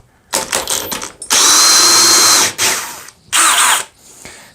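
A Parkside PPBSA 20 Li A1 cordless drill driver, rated at 150 Nm, bores into wood, its motor whirring loudly in several bursts, one long steady run and shorter starts, close up with no talk.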